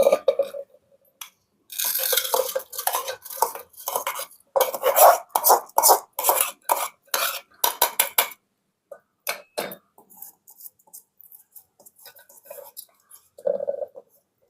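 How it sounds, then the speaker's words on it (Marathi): Rice is tipped into a pressure cooker, with metallic clinks, scrapes and rattles of pots and utensils coming in irregular bursts, loud and close, then sparser taps and a few quiet knocks. "आता मम्मी कुकर मध्ये भात टाकते"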